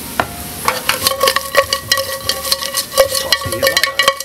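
Pork ribs hit a hot pan of crispy garlic and pepper, sizzling loudly and close while a utensil stirs and scrapes through them in quick, irregular strokes.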